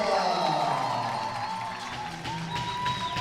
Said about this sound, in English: Heavily partisan crowd cheering as their local heroes come onto the court.